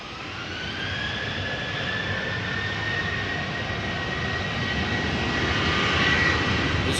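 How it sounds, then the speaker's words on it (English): Boeing 737-800 jet engines spool up for a crosswind takeoff from the runway threshold at Amsterdam Schiphol Airport, a broad steady roar with rising whine that slowly swells in loudness, heard from a distance with no talk. "the next 737 is already lined up on the runway threshold, spooling up as we speak."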